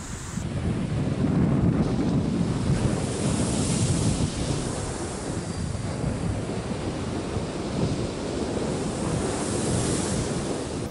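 Sea waves wash steadily onto a sandy beach in Sunderland, England, rolling surf with gusts of wind buffeting the microphone, no voices.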